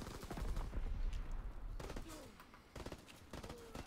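Bursts of rapid gunfire in a WW2 video game, with sharp repeated shots and automatic rattles clustered in several loud volleys, some long-range fire into a spawn area, over a busy background.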